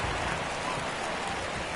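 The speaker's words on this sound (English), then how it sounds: "It feels like we might be headed towards a rain delay if the weather doesn't ease up, Chris." Steady rain hisses across a ballpark during a World Series game in the video game MLB The Show 22, a dense, even wash of sound filling the whole moment with no voices.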